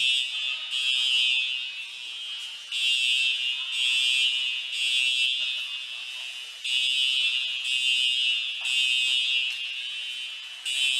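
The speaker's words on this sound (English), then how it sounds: "That is a fire alarm." A shrill electronic fire alarm blares in repeating bursts at an ice rink during a U18 ice hockey game, pulsing on and off steadily with a high, piercing tone and no voices.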